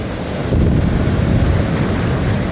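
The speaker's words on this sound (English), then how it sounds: "That water is actually starting to feel pretty good on the feet and the legs. It's splashing up a little bit." Ocean waves splashing around a person's feet and legs at the beach: a continuous loud wash of surf mixed with heavy wind buffeting on the microphone, with no talking.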